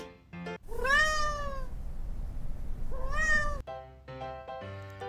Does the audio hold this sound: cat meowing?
yes